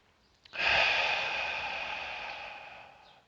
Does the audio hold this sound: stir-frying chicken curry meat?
no